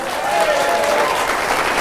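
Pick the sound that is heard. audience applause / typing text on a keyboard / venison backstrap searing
audience applause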